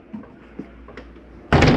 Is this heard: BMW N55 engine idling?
no